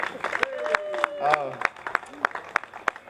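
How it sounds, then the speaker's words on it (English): At a Black and Brown unity rally, sharp, evenly spaced claps ring out under a voice speaking over a PA, steady and distinct rather than a full roar of applause. "I have another round of applause for him."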